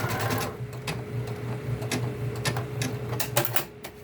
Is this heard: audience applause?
no